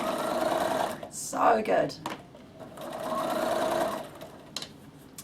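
Sewing machine stitching a beach towel bag, running in two steady bursts at close range with short pauses between, while someone speaks briefly over it.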